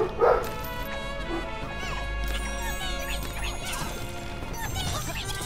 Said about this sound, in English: My dog loves to bark.